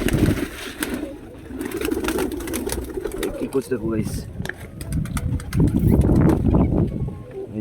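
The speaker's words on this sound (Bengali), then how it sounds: "আর এদিকে পায়রাগুলো সব খাচ্ছে," Pigeons coo while eating a grain mix of paddy, rice and mustard seed on a windy, stormy day, the calls close and repeated beneath a man's speech.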